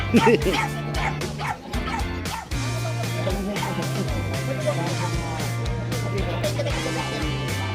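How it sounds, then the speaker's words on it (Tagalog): A small dog yips and barks excitedly in rapid bursts, close by at a pet market, with a steady low hum and other noise behind it. "Anong aso to?"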